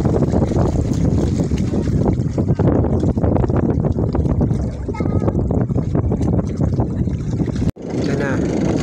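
Boat moving on open water, a steady rumbling wash and wind buffeting the microphone, loud and continuous, with people talking nearby throughout.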